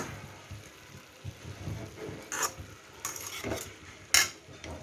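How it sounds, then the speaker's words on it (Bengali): A mixed vegetable stir-fry with chopped coriander being gently stirred in a pan: soft scrapes and light clinks of a utensil against the pan, with a few sharper metallic taps, fairly quiet and without talking. "ধনে পাতা কুচিটা দিয়ে একদম হালকা করে নেড়ে নেব"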